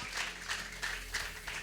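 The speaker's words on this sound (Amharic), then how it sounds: "አጨብጭቡ ለጌታ ክብር።" A church congregation clapping together in praise during a sermon: soft, fairly distant rhythmic clapping in regular bursts.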